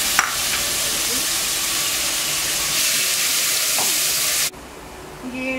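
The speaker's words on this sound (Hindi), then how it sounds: "इसको लाइट सॉटे करते हैं, ज्यादा नहीं पकने देते सब एक साथ।" Ginger garlic paste sautés in about two tablespoons of hot oil, giving a loud, steady sizzle with stirring for about four and a half seconds before it drops away to quieter kitchen sounds.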